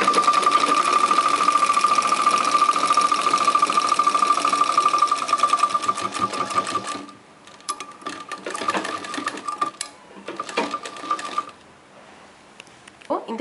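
Sewing machine stitching cloth during a beginner tailoring lesson, running steadily and loudly for about seven seconds, then in short start-stop bursts with pauses between them.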